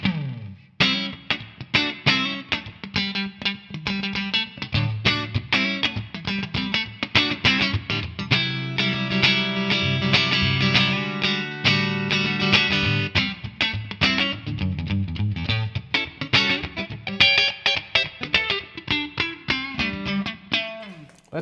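Electric guitar played through a Fender brown-panel Vibroverb amp capture with reverb switched on, loud percussive chords and single-note lines ringing with a reverb wash, steady and alone for about twenty seconds.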